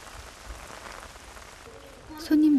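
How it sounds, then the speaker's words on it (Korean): Rain falls on surfaces outdoors in Ghana, a steady, even hiss of drops throughout, with a voice briefly rising over it near the end. "비까지 내리자 엄마 마음이 안절부절 야단입니다."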